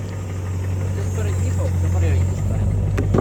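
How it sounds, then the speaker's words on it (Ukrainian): A small car pulls up around a corner, its engine a steady low hum that is close and fairly loud, with a faint voice talking in the background. "за угла подъезжает такая машинка."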